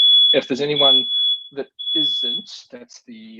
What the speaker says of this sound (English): fire alarm, I think, which means the sausages are burning